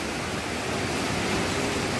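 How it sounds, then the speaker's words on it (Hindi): Heavy, continuous rain that has been falling since the previous night on a dark evening, forming a dense, steady hiss that fills the whole clip with no voices over it. "बहुत ही ज्यादा बारिश हो रहा है।"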